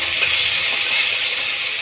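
Tomatoes fry in a pan with curry leaves and a pinch of salt, giving a steady, close, bright sizzle that holds at an even level throughout.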